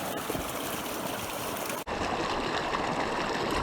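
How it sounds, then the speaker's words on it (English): Water running steadily after heavy rain, likely a swollen creek beside a road, a continuous broadband rush with a brief dropout midway, then resuming just as full; no voices. "The relaxing sound of running water."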